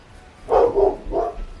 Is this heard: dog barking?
yes